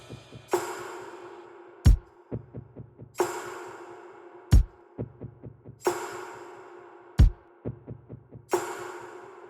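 A pop rhythm section with instrumental reverb repeats a loop of deep kick thumps, sharp snare hits and washy reverb tails in a steady groove, with no voices.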